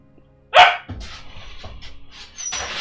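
A puppy lets out one sharp, loud bark up close, followed by softer yips and whimpering noises.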